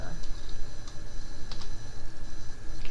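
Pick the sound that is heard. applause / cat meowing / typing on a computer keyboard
typing on a computer keyboard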